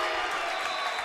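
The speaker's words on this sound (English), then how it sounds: "You heard the boom from the crowd." A crowd cheers loudly at a Monmouth College volleyball match. The dense, steady roar fills the whole short moment with no break.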